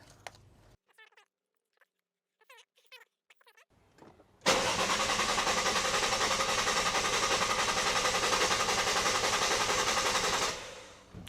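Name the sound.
Lexus IS200 engine cranking with injectors unplugged to prime oil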